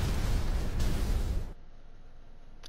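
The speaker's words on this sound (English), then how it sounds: "I thought we had some time left before it blew up." A loud, broad explosion roar from the Star Ocean: Integrity and Faithlessness video game rumbles for about a second and a half, then cuts abruptly to near silence, with a faint click at the end.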